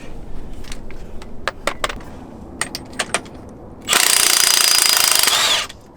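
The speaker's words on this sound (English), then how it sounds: "So let me get my impact wrench." An impact wrench loosens a nut on an Atlas transfer case shift lever. A loud, steady rattling burst lasts about two seconds after scattered clicks and handling knocks.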